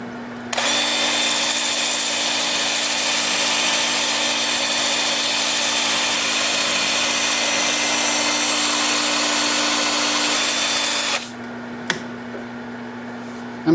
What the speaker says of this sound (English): I'm starting the sanding in reverse at 350 RPM. I'm using 80 grit.